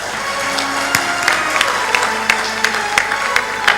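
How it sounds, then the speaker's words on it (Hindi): Applause from the audience at a spiritual talk, a loud, close patter of many hands clapping with scattered sharper claps standing out, continuing evenly for several seconds. "ये तालियां मरी मराई मत बजाओ।"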